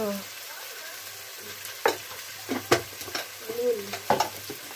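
Masala spices with turmeric frying in a pan during curry prep before meat is added, a quiet steady sizzle broken by a few short stirring scrapes and clinks, with no talking.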